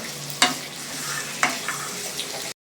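Sliced onions, garlic and ginger frying in a pan, a continuous close sizzle broken by a few sharp spoon scrapes as they are stirred.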